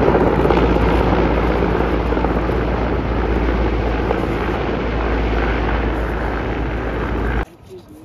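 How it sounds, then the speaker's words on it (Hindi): A helicopter at Kedarnath fills the air with a steady rotor thrum and engine roar, loud and continuous, before cutting off abruptly near the end. "यहाँ देखो कितना नज़दीक हेलीकॉप्टर की सर्विस भी है"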